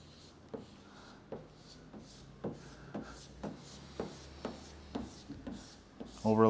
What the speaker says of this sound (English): you can take and squeegee down right along this side edge